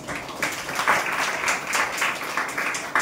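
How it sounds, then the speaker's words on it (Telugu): Congregation clapping hands together during a fasting prayer meeting in Kakinada, a dense, steady burst of many hands applauding at once for about three seconds. "చప్పట్లు కొట్టండి."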